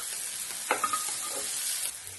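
Curry leaves drop into hot oil for a turmeric-seasoned dish and crackle with a sharp, steady sizzle, a few brief pops standing out near the start.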